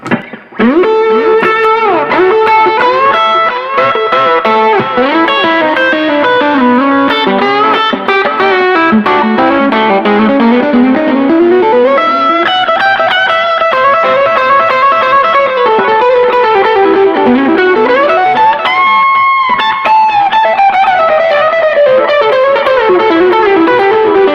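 A distorted electric guitar solo rings out with delay repeats, sustained bending notes and sliding runs, loud and continuous throughout.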